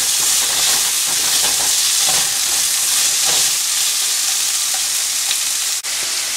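Ginger and garlic fry hard in a pan for fish biryani, with loud, close sizzling and the scrape of stirring running steadily from start to finish.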